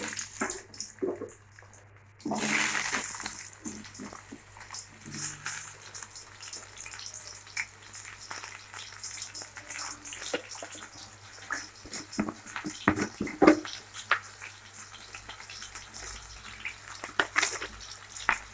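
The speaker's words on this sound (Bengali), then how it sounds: "সাদা তেলটা গরম হয়ে গেছে, দিয়ে দেবো আলু।" Potatoes go into hot white cooking oil in a heated wok, bursting into a loud, steady frying sizzle after a quiet start, with brief clinks and stirring scrapes over the hiss and no talking.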